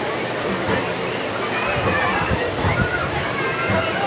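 Water sloshing and splashing in a busy swimming pool with slides, a continuous loud wash of churning water with crowd noise and people talking over it.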